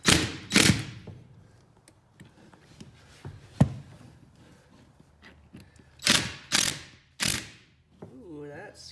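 A ratchet wrench cranks a bolt tight while a bus rear heater is being removed, giving a few sharp clicking bursts separated by quiet gaps, with a voice speaking briefly near the end.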